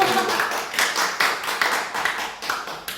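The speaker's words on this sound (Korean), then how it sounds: "박수로 환영하시겠습니다." An audience gives a brief round of clapping to welcome someone forward at a church gathering, a few seconds of scattered, fairly close hand claps with uneven rhythm.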